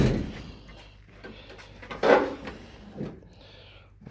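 Door of a 1969 Dodge Charger, newly fitted with replacement sheet metal, being shut in a garage: a few moderate thuds and latch clunks spaced apart, with quieter handling noise between them.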